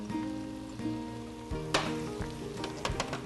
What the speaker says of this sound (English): we're going to go ahead and throw in the okra